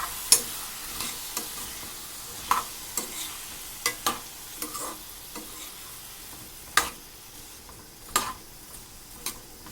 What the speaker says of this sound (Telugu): ఇలా అన్నీ వేసుకున్న తర్వాత ఒకసారి మంచిగా కలుపుకుందాం.